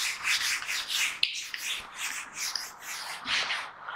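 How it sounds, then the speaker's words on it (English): A diagram is rubbed off a classroom board in quick, steady back-and-forth strokes, a close, dry scrubbing that continues without a break and without any voices. "So I will rub this diagram."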